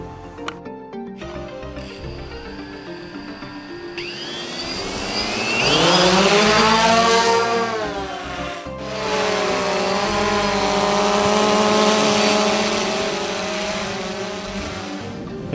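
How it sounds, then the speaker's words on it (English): A DJI Phantom 2 Vision quadcopter drone flies outdoors in some wind, its loud rotor whine rising and falling in pitch as it climbs and maneuvers, steady and continuous with no talking. "And flying the aircraft actually flies quite nicely."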